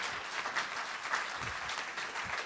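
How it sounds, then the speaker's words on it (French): Audience clapping at a political rally in Nice supporting Jean-Luc Mélenchon, a faint, distant, steady patter of many hands with no speech over it. "Je crois qu'on peut l'applaudir."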